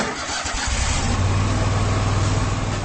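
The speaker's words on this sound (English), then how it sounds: "That's the sound of the Commander, Kubota's top-selling zero-turn mower" A Kubota Commander zero-turn mower engine turns over and catches, settling into a loud, steady, close running drone with no voices.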